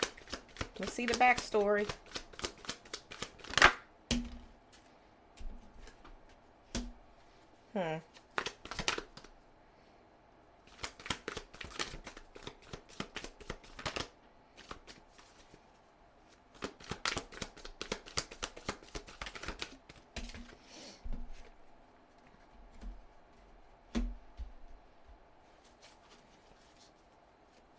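Tarot cards being shuffled by hand, with repeated bursts of riffling and flicking spread through the clip, some close and crisp, under intermittent speech.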